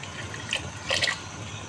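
Tamarind water pours into a pot of cooking lentils for daal fry, a soft steady trickle with a couple of brighter splashes near the middle, close and fairly quiet.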